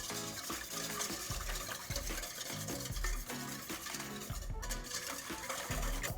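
A whisk or spoon stirs lemon sabayon while the egg yolks cook over heat, a quick, rhythmic scraping and sloshing that goes on steadily, close and fairly quiet.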